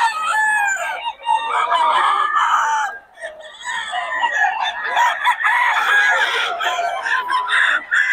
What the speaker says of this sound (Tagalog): Quality mga manok ni Boss Batang